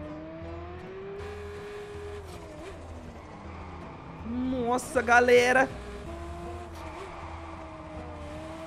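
A Volkswagen Beetle engine in the racing game Test Drive Solar Crown hums steadily, then revs up in a brief loud burst with tire noise before settling back, while someone talks over it.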